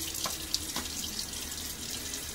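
A bathroom tap runs steadily into a sink during a wet shave, a continuous close splashing hiss with a few small drips and splashes.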